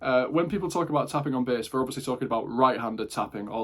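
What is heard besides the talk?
No everyday noise stands out behind the speech.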